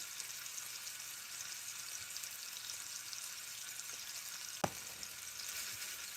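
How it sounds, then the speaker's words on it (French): Meatballs frying in a pan for a tomato-sauce dish: a steady, quiet high sizzle runs throughout, broken once by a single sharp click or clatter near the end. "Donc là, les boulettes, elles sont en train de cuire."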